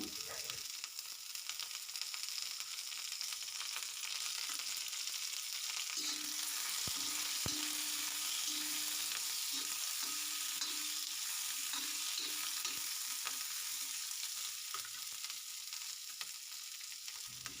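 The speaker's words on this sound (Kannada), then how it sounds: "ಈಗ ಸ್ವಲ್ಪ ಎಣ್ಣೆನ ಹಾಕ್ಕೊಳ್ಳೋಣ ಎಣ್ಣೆ ಹಾಕ್ಕೊಂಡು ಇದಿಷ್ಟು ಫ್ರೈ ಮಾಡ್ಕೊಳ್ತೀನಿ" Leafy greens with curry leaves frying in oil for a soppu palya, a faint, steady hiss of sizzling with occasional soft stirring knocks.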